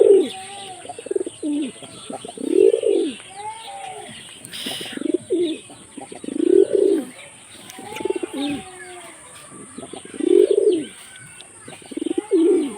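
A hunting pigeon coos steadily, with about six deep, rounded coo phrases in a slow repeating rhythm. They sound close and clear, with faint chirps between them.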